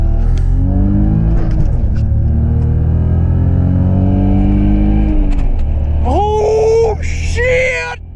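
A ProCharger-supercharged 500 horsepower BMW E46 pulls hard, its engine roaring loudly and climbing in pitch through the gears from inside the car, with excited shouting over it near the end.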